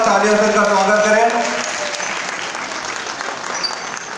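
Loud audience applause welcoming hairstylist Javed Habib at a keratin treatment seminar, many hands clapping in a dense, sustained burst, with a voice over the start before the clapping continues alone.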